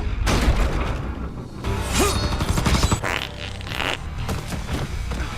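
A comedic fart sound effect dropped into an edited fan video, appearing in short loud bursts over a dense mix of music and sound effects.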